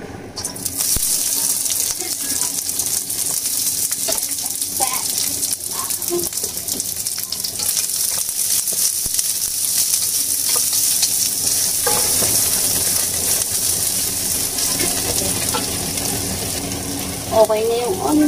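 Onion frying in a pan for Singaporean fried noodles, a loud continuous sizzle with scraping stirs throughout and a sharper clatter near the end.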